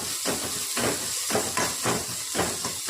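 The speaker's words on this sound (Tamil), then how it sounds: "கருவேப்பிலை வந்து குட்டி குட்டியாக கட் பண்ணியாச்சு. இப்போ இதையும் சேர்த்துக்கலாம். இப்போ கொஞ்சம் நல்லா வந்து வதக்கிக்கிட்டே இருப்போம்." Chopped curry leaves and green chillies sizzle in a hot pan, a steady frying hiss broken by regular bursts as the mixture is stirred, alone and fairly close.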